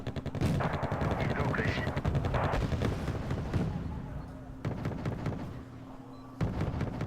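Gunfire and explosions from a MILAN missile team firing on infantry in the war strategy game, a dense, continuous stream of loud shots and bangs with a voice talking over it throughout.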